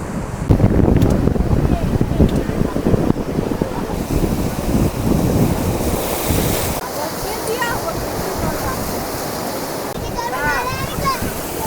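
Sea waves break and splash at Mohana beach in Digha, a steady loud surf wash mixed with wind rumble across the whole stretch, with people talking nearby toward the end.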